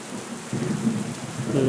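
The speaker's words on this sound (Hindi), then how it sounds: "आसमान में बारिश होने लगी" Heavy rain in a cartoon story scene, a steady dense hiss of falling water that grows louder partway through, with a low rumbling undertone like distant thunder and no voices.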